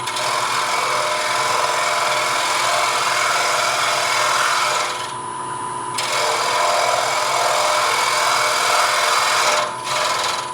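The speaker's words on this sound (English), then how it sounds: "I'm cutting from the center outward with the gouge rolled over approximately 45 degrees" A gouge rolled about 45 degrees cuts outward from the center of a rounded wooden scoop, making a continuous loud rasping scrape with two brief pauses between strokes.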